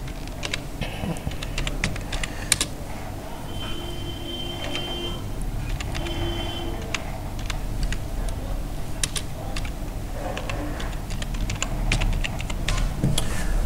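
Fingers typing on a computer keyboard, a steady run of close, crisp key taps with occasional louder clacks over a low room hum.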